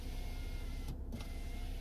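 A car's power window motor whirs briefly in the middle, a short electric hum over quiet cabin background.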